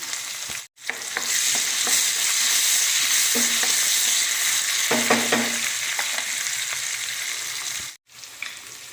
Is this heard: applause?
no